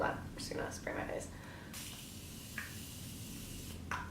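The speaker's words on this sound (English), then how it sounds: "I'm just gonna spray my face." Morphe Continuous Setting Spray is misted onto a face in one sustained hissing burst lasting a couple of seconds, preceded by someone talking and followed by brief speech.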